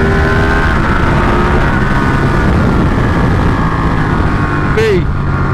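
A Ducati 1299 Panigale motorcycle being ridden on the road gives a loud, constant engine drone mixed with heavy wind rush, with a short rising whine near the end.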